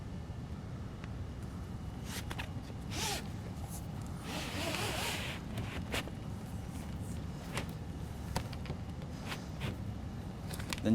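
A zipper on the rear window of a Bestop Supertop soft top on a 2015 Jeep JKU is pulled in several short, quiet rasping runs, close by, with faint handling noise between them.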